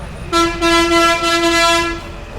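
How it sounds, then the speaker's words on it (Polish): A single loud, sustained car horn blast in traffic in Rajasthan, India, lasting under two seconds, slightly wavering in pitch, sounding close by. "ale klakson to jest podstawa, no normalna częstotliwość trąbienia"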